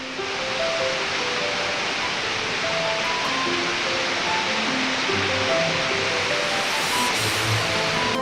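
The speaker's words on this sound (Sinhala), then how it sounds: "මාතලේ සංචාරයේදී අපට හමු වෙන තවත් දියැලක් තමයි බඹර කිරි ඇල්ල." Bambarakiri Ella waterfall near Rattota in Matale, Sri Lanka, roars as a steady broadband rush of falling water. The sound is loud and continuous throughout, with no voices.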